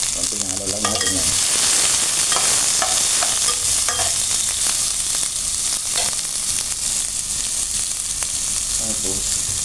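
Freshly caught clams sauté with onion in a pan, giving a loud continuous sizzle broken by repeated scraping and clinking stir strokes close by.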